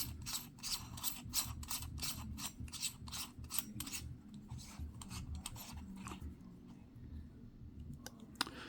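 Ratchet tightening a part during a car accessory install, a fast run of sharp close clicks for about four seconds, then softer scattered mechanical rubbing and clicks.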